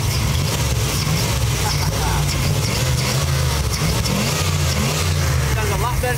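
The engine of a Chevy Silverado pickup with a rebuilt 4L60E automatic transmission runs on the road, a steady loud low rumble with road and wind noise throughout.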